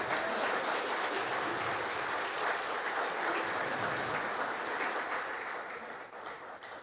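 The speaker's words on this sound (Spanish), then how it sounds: "Está con ganas de aplaudir." A church congregation bursts into sustained, dense applause that fills the room evenly, then fades slightly toward the end.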